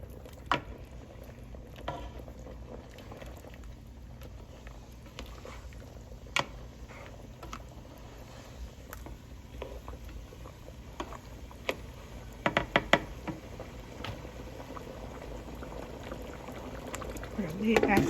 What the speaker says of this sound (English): So we have a good boil going on this.